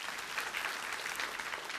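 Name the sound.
congregation applause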